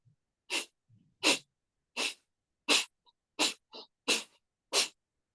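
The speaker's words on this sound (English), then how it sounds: "And fire breathing, again, it's in through the nose," Fire breathing exercise: eight quick, sharp breaths pushed through the nose from the belly, evenly spaced and close, each a short forceful huff, with faint softer breaths between.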